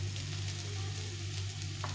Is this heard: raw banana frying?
yes